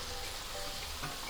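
Battered chicken for chilli chicken frying in oil over a slow flame, a faint, steady sizzle with soft bubbling throughout.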